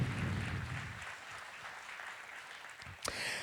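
Applause from a conference audience at a generative AI event, a dense, steady patter of many hands clapping that carries on throughout with no voices over it.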